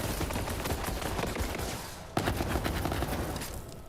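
Torque weapon fire in Borderlands 3, a dense, rapid stream of shots with heavy rattling bursts, broken by one brief gap before the firing resumes, fairly quiet in the mix.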